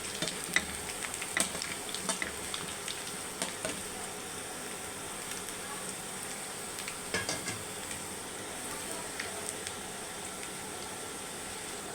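Onions fry in hot oil with garam masala powder and sugar, a steady crackling sizzle with occasional stirring scrapes and utensil clinks against the pan throughout, no voices.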